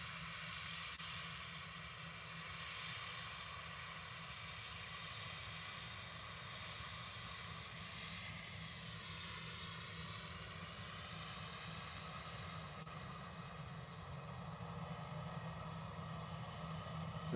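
An easyJet Airbus A320 airliner taxiing at Liverpool Airport in strong wind and heavy rain, a steady distant jet-engine drone with a faint whine, continuous throughout and rising slightly at the end.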